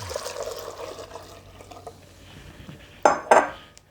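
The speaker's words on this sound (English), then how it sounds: "So I'm going to pour this back in my pan." Eggnog is poured back into a cooking pan, a soft liquid trickle followed by two sharp metallic clanks of utensil against pan, close by and with no speech.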